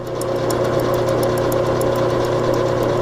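A gear-cutting machine cutting teeth into a plastic gear, with a steady mechanical hum and a fast repetitive ticking of the cutter biting the material, close and continuous without talk.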